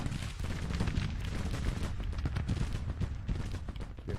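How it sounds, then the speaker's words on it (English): Massed artillery and rifle fire from a Grand Tactician Civil War battle at Shiloh, a dense, continuous rumble of overlapping booms and crackling shots, loud and sustained without clear talk. "We need you to start firing, Jackson."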